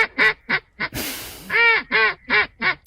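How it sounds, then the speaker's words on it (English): A duck quacks in a steady run of loud, nasal calls, about eight in all, with a brief burst of rustling noise midway. "it quacks like a duck"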